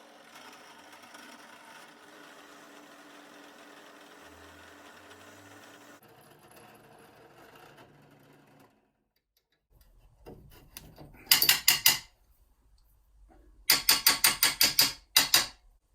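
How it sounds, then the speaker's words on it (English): A 3.5mm drill bit boring through a metal workpiece clamped in a drill vise, heard as loud bursts of grinding whine with short pauses, preceded by quieter motor hum. "so let's drill through."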